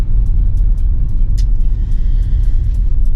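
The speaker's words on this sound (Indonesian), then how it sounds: "suara mesin lebih menderu lebih dahulu ketimbang mobilnya yang bergerak untuk berakselerasi" A 2017 Nissan Serena with a CVT transmission, its engine droning and revving steadily while accelerating, a loud continuous low rumble heard from inside the car.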